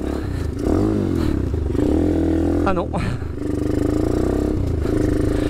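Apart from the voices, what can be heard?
mini GP motorcycle engine revving while riding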